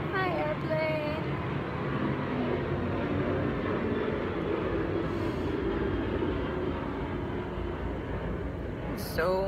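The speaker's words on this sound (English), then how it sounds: "jets flying over, and a bunch of like World War II" Military jets pass overhead with a broad, continuous roar that stays steady throughout, and a person talks underneath it.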